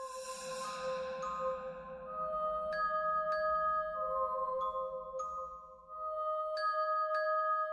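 A notification bell sound effect plays a bright series of clear, ringing chimes, each struck tone sustaining and overlapping the next, close and clean against a quiet background.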